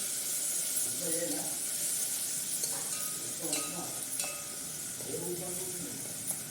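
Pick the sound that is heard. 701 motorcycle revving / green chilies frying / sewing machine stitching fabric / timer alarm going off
green chilies frying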